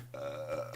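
A single short burp from a man in a home recording setup, a brief low croak heard close and fairly quiet, alone without talk.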